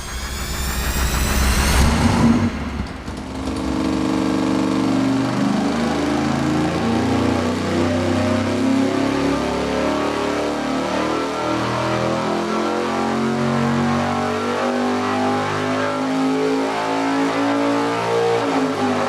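A small-block Chevy V8 on an engine dyno pulls hard, with a loud sustained roar that climbs steadily in pitch for most of the run after a brief higher burst at the start, and no voices.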